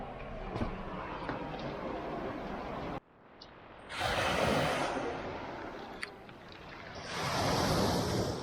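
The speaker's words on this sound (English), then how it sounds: "So we finally reached the Black Sea." Black Sea waves wash onto the shore on the Georgian coast, with wind buffeting the microphone. Two separate surges of surf rise and fall a few seconds apart, the second building again toward the end.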